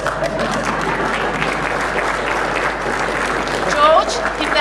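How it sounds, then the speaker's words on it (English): Audience applause at a debate on salvation in the Bible and the Quran: steady clapping fills the hall throughout, with a voice briefly audible beneath it. "George, give that applause now."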